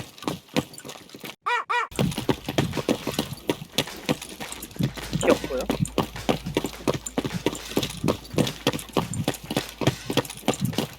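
Rapid footsteps crunch and clop in a steady rhythm through Escape from Tarkov's Shoreline resort, fairly close and continuous after a brief pause, with faint game ambience underneath.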